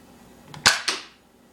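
A Nerf toy pistol firing a foam dart gives two quick, sharp snaps close by, a spring click followed by a short airy pop, brief and fairly soft with no voice.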